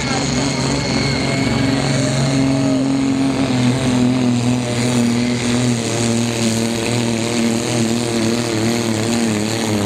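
The 4.5-ton Brutus supersport car's big engine drones loudly and steadily nearby, a deep sustained roar with shifting harmonic tones, while someone talks over it.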